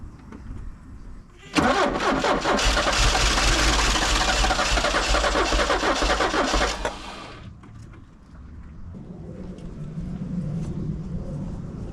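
A Porsche 944 engine cranks and catches, then runs loudly at a rough, steady idle for about five seconds before cutting out, leaving quieter low rumble and background noise afterward.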